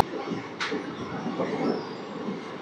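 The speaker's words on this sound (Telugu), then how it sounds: "మన ట్రైన్ అయితే ఇది స్పీడ్ 95 స్టార్టింగ్లో ఎక్కించాడు" Train running at speed around 95 on the approach to Koduru station, a steady broadband rumble of wheels on rails with a brief sharp squeal early on, heard from inside the carriage.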